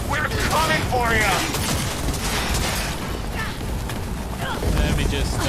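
Rapid sustained gunfire in Cyberpunk 2077 as a weapon is emptied of all its ammo, dense crackling bursts under continuous combat noise, with voices heard through the mix.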